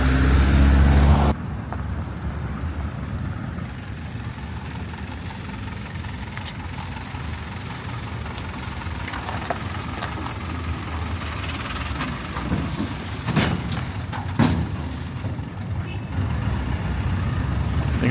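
Large Mercedes trucks rumble around a truck yard in Peru, giving a steady, moderately loud engine drone with passing vehicle noise and occasional clunks. Near the start there is a brief, louder low burst.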